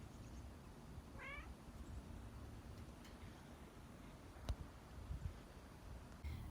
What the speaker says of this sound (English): Okay, so there's our kitty, Lucy.